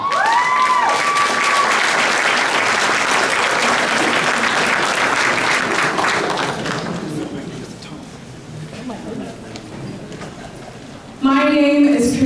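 A large audience at a College of San Mateo event applauds loudly for several seconds; the clapping fades out, and a brief clatter and a voice come at the end.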